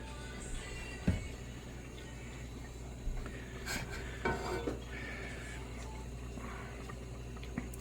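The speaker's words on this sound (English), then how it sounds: "I don't want to burn it while it's kind of defrosting in the pan" Frozen ground beef defrosting and browning in a pan over moderate heat, with a faint steady sizzle and occasional utensil clinks and scrapes against the pan, no talking.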